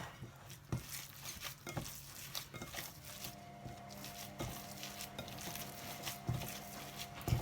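Gyoza filling is stirred in a bowl to mix it, giving soft, wet, irregular scraping and squelching sounds close by, with a few sharper knocks of the utensil against the bowl.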